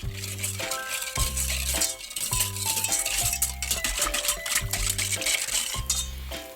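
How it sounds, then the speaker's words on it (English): Cupcake batter being stirred in a mixing bowl, with a steady run of rattling spoon-against-bowl clinks and scrapes heard close up under a continuous tonal backdrop. "Let's stir it up."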